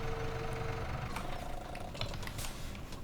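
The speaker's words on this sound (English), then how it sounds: "Yeah, good compact tractor," Compact tractor of about 80 horsepower idling in Farming Simulator 2017, a steady low engine drone with a faint mechanical tick running throughout, close and continuous with no speech over it.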